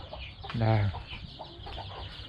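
Village chickens in a coop cluck and squawk close by, one loud burst standing out over a steady murmur of hens, with faint rustling in the background.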